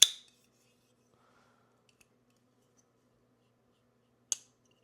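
Liong Mah Design KUF V3.5 folding knife with a horizontal satin blade, giving two short, crisp metallic clicks about four seconds apart, probably from the detent engaging, with near silence and a faint tick between.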